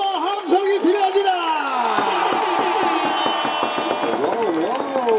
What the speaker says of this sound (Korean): 여러분들의 힘찬 박수와 함성이 필요합니다